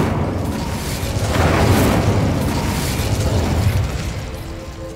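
A loud, rumbling Incendio fire-spell blast in Hogwarts Legacy, a deep burst swelling around the second mark and then rolling on as a sustained roar of flames for several seconds.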